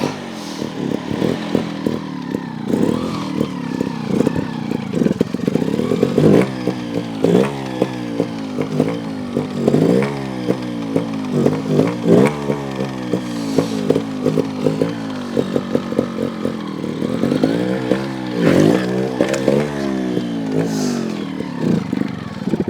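A GasGas TXT 300 trials motorcycle working through a backyard obstacle course, its engine loud and close with constant sharp revving, blips and throttle surges rising and falling throughout, no talking.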